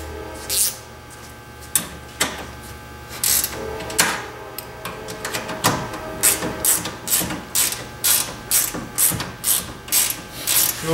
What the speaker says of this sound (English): Now you just open the box, try not to let it move, and tighten the nuts in here right where it is.